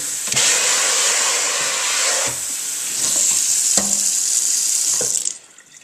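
Water runs steadily from a tap to rinse ink out of a Yudu screen-printing screen, a loud continuous splashing gush with a few brief interruptions, cutting off abruptly near the end.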